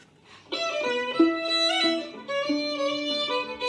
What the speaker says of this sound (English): I added my fiddle on top of that